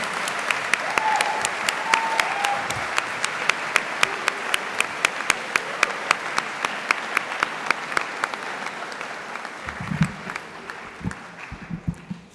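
Sustained applause from an audience at a master's degree graduation ceremony, steady dense clapping with sharp individual claps standing out, loud and continuous for the full length, with a few low murmurs near the end.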